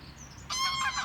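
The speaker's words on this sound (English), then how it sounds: "That noise is my neighbour's geese," Geese at a neighbouring property honk loudly and close by in a burst of several overlapping calls that starts halfway through, after a quiet stretch.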